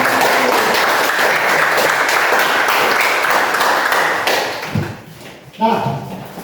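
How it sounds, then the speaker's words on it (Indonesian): Applause for a group in a classroom setting, a dense burst of many hands clapping that holds steady and then tapers off, followed by a voice starting to speak. "Mari berikan aplaus untuk kelompok."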